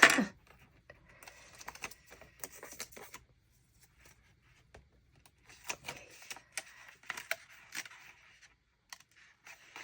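Paper being cut for a Dutch door planner layout, a run of small close crisp snips and scratchy cutting strokes in short irregular bursts with quiet gaps, no talking.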